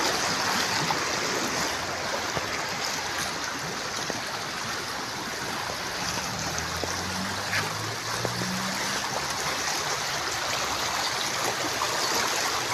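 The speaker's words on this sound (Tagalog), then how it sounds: "Lakas yung alon. Lakas yung agos." Steady, strong rush of a river flowing toward the sea, a full broadband roar with no pauses and no voices.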